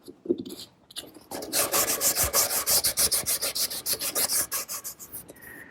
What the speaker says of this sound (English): a little more touch-up sanding and we'll be ready for some finish.